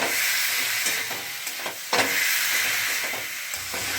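Young jackfruit and potato pieces sauté with salt, turmeric and spices in oil, giving a steady close sizzle and hiss broken by occasional scraping stirs of a spatula in the pan.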